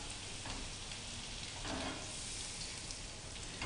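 Butter browning in a frying pan for pan-fried salmon gives a steady, close, fairly quiet sizzle and crackle that runs throughout with no talk, swelling briefly in the middle.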